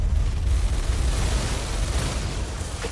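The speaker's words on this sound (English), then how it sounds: "Explosions inside the refinery compound." Explosions rumble inside a refinery compound in the video game Tom Clancy's EndWar, a continuous low, heavy roar of blasts with no distinct separate booms, loud and alone without voices.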